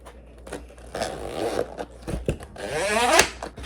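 A slide cutter drawn across shelf liner, giving a smooth rising scraping swish that builds to a louder pass near the end, with soft handling rustles before it.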